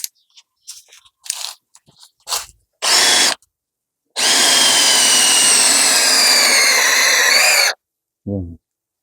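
An INGCO hammer/impact drill with a wood bit bores into wood: a few short trigger bursts, then one loud sustained whirring grind lasting several seconds, and a final brief blip, with silence between.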